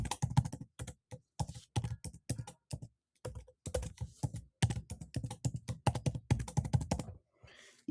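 Someone types a password on a computer keyboard in quick bursts of crisp key taps with short pauses between, close and fairly quiet, with no talking.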